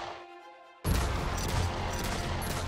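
Guns glued to a character's hands firing nonstop in Terry's Tragedy: after a quiet start, a sudden loud burst of rapid gunfire kicks in and continues as a dense, unbroken volley to the end.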